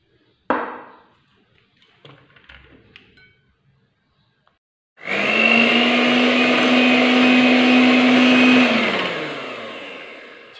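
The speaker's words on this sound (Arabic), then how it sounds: "نزيدو لهم كاس حليب بارد ونخلطو كلش بالباتر" An electric mixer whirs steadily at high speed for about six seconds, blending cold milk into chocolate cream, then winds down. Before it starts, a single clink and a few faint kitchen knocks are heard.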